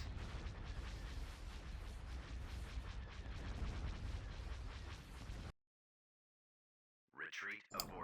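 Concussion missiles strike in the space strategy game Star Wars: Empire at War, a sustained roar of overlapping blasts and rumbling bursts that cuts off abruptly, followed by a brief spoken line.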